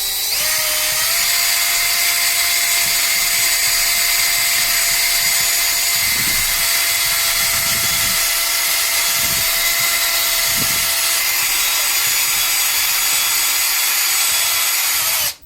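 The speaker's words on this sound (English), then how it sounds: "And so the next step will be drilling into the leg" A power drill runs continuously at a high, steady whine for over fifteen seconds, drilling into a collectible statue's leg, close and loud, with occasional low thumps underneath.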